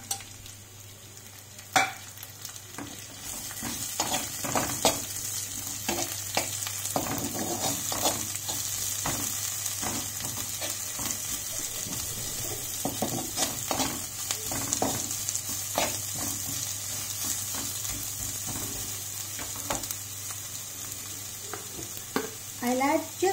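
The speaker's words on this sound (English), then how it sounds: "Now the onions for this recipe needs to be fried to a very light golden" Sliced onions fry in a pan with a steady, close sizzle and scattered stirring scrapes and clinks, no talk, while they cook toward a light golden colour with a pinch of salt.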